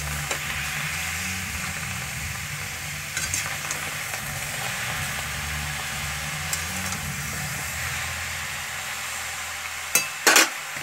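Cabbage and ginger stirred in a hot pan, a continuous gentle sizzle beneath low rumbling, with a spatula scraping and a couple of loud clanks near the end.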